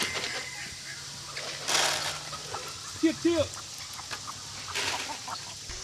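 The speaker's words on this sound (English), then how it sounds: "Let's get these chickens fed and these geese fed." Laying chickens in a farm pen cluck in short, close bursts, with a few louder calls in the middle, while someone says a word and faint rustling and outdoor background fill the gaps.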